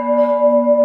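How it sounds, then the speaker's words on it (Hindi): A large 251 kg temple bell, heard in close-up with one loud, sustained metallic tone that keeps ringing and pulses gently as it decays. "देखिए भैया, 251 किलो का घंटा,"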